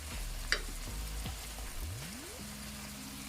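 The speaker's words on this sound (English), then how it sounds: "you just want to saute this a little bit, right?" Ingredients for ackee and saltfish sizzle steadily as they are sautéed in a frying pan, a continuous crackling fry with a few low rumbling tones sliding underneath.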